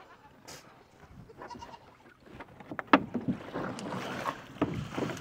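Several goat bleats ring out over splashing, rustling outdoor noise, one sharper cry standing out midway, with scattered movement sounds throughout.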